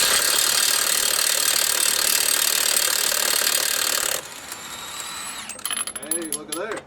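A Milwaukee 2767 high-torque half-inch impact wrench hammers at rusted semi-truck lug nuts with a loud, sustained rattling burst that cuts off abruptly, followed by quieter clanks and handling noises.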